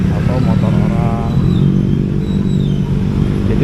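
Engine rumble from a Yamaha XMAX 250 scooter crawling through a traffic jam, with surrounding vehicle noise and someone talking over the steady drone.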